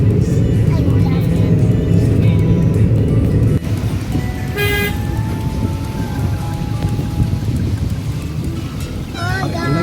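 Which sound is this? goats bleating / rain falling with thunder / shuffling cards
rain falling with thunder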